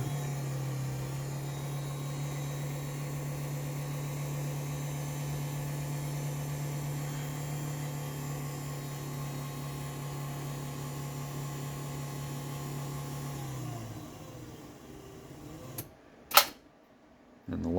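A LiftMaster 8550WLB garage door opener, noted as running a little noisy and not quite right, drives the door down with a steady motor hum for about fourteen seconds, then stops with a few clicks.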